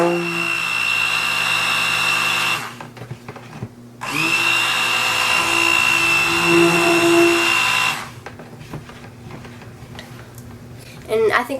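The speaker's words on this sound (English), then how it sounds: "So I'm going to start using the stick blender, and I'm just gonna do a few bursts at first." A stick blender mixing soap batter whirs in two loud bursts of a few seconds each, separated by a short pause, followed by quieter handling noises.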